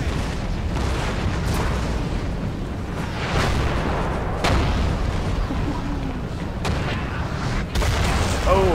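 Cannon fire booms from a siege battle in Napoleon Total War, with repeated heavy blasts landing every second or so over a dense, rumbling battlefield din.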